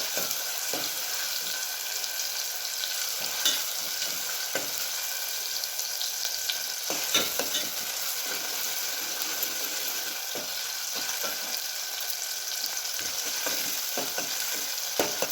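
Onions and tomatoes sizzle and fry in a pan, a steady hissing crackle close by with occasional scrapes and stirring clicks, no talk over it.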